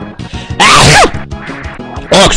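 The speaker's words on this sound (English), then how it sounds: "I'm about to sneeze." A person with fall allergies lets out two loud, abrupt sneezes about a second and a half apart, each a sharp burst heard close, with faint background sound from a Super Castlevania 4 game between them.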